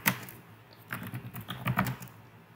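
Python code typed on a computer keyboard, close and fairly quiet, with irregular clusters of sharp key clicks and brief gaps between them.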